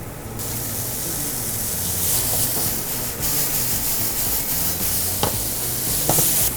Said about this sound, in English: Start with a nice hot pan, some oil inside. We're going to saute the mushroom first.